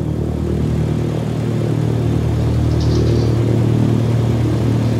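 A simulated aircraft engine at full power in Microsoft Flight Simulator 2020 produces a steady, even drone that holds throughout without speech.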